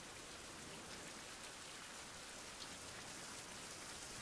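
Rain falls in a survival game as a steady, even hiss of rain on surfaces, filling the whole stretch with no pauses and no talk.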